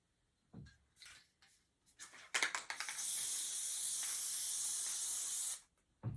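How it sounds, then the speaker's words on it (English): Spray adhesive hisses from a can onto quilt layers, a few short puffs and then one long steady close-up spray lasting about three seconds before cutting off. "Then spray your next layer."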